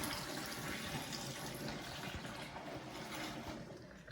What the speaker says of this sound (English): You're gonna pour out your mop water and solution. Do it slowly so you don't make a big mess.